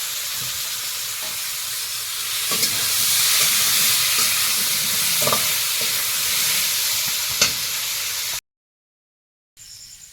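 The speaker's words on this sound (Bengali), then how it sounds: "আলুটা প্রথমে ভেজে নেব ডিমের সঙ্গে একসঙ্গে দিলে আলু আর ভাজা হয় না ডিমের জলে একটু ভেজে নেব একটু হলুদ আর লবণ দিয়ে ভাজবো" Potato pieces fry with turmeric and salt in a pan, giving a loud, steady hiss with occasional soft clicks, until the sound cuts out briefly near the end.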